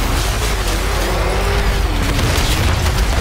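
A deep explosion in a Batman video game rumbles on as a steady, loud, low roar with no voices over it.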